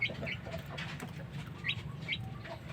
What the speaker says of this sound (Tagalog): yung mga alagang sisiyo naman natin